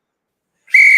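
A safety whistle, the kind carried for emergencies in icy riverside terrain, gives one sharp, loud, sustained blast that starts abruptly after silence and holds steady to the end.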